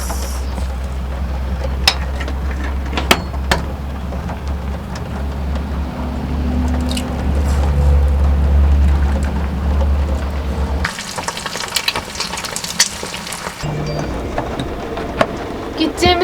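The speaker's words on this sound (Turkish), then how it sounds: "Yağmur çok." Heavy rain hisses and drums steadily on a caravan, with a low motor hum underneath and occasional louder taps.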